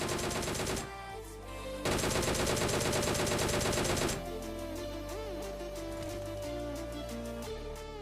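Rapid automatic gunfire in the battle royale game PUBG on the Georgopol map, dense sustained bursts loud and close, broken by short pauses and followed by a steadier rattling stream with scattered single shots.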